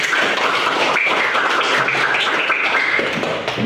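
A class of children clapping their hands together in a classroom, a continuous close patter of many claps filling the whole stretch with no talk.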